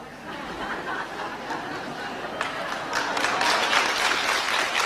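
Audience at a question-and-answer meeting breaking into applause mixed with some chuckling and murmuring. The clapping starts scattered and builds gradually louder toward the end.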